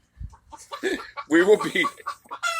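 A chicken clucks in a series of short calls close by, mixed in with a person's speech.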